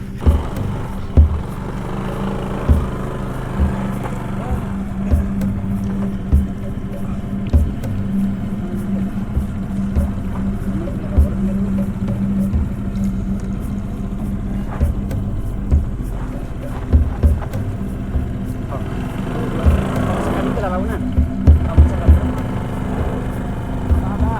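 An automatic scooter-style motorcycle engine labors along a rough trail on Mount Tambora, droning steadily close by with uneven revving bursts and knocks; people talk at times over it.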